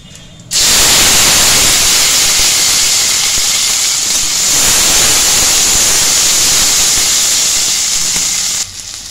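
Chopped tomato and capsicum drop into hot oil with dried chilli and cumin in a wok, setting off a loud, steady sizzling hiss that starts abruptly, holds strong for about eight seconds, then stops.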